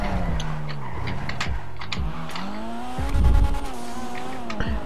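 A Toyota Supra is driven hard in GTA RP, its engine note rising and dropping through quick gear changes with tire squeals and a heavy thump partway through.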